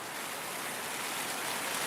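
Steady rain falls around a Dall sheep hunting camp in northern British Columbia, a soft, even hiss of drops with no breaks and no voices.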